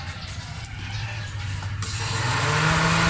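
Radiator fan on a Toyota Corolla, triggered by the thermoswitch, starts up the moment the ignition is switched on, its steady whirring rising and holding loud and broadband after a quieter mechanical hum.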